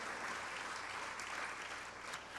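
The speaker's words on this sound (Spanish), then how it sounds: "¿Por qué no le das un aplauso al Señor por eso?" A church audience at a faith conference applauds, a steady wash of many hands clapping that sounds somewhat distant and quiet, continuous for a couple of seconds.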